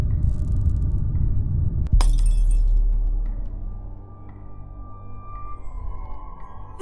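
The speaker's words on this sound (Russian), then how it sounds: "Мне разбили лампочку, я ничего не вижу." A light bulb smashes in a horror video game, one sharp glassy shatter cutting through a low rumbling drone, followed by a fading tinkle and quieter ambient hum.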